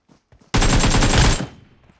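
Pistol gunfire in the mobile game PUBG Mobile, one loud, abrupt burst of rapid shots lasting about a second that then fades, preceded by faint quiet sounds.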